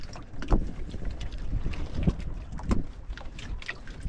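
Small fishing boat out on open water, with steady wind buffeting the microphone and low rumbling water and hull noise throughout, no clear talk.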